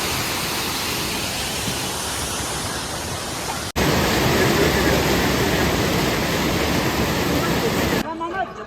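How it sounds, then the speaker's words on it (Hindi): A strong waterfall roars below a mountain path on the Amarnath Yatra trek from Chandanwari to Sheshnag Lake. The loud, steady rush fills the whole clip, with a brief break midway, before it cuts off near the end. "ये नीचे से ज़ोरदार झरना बह रहा है और हम इस झरने पर से निकल रहे हैं।"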